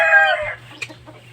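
A chicken gives a short, loud squawking cluck close by, followed by a softer cluck against a low background hum.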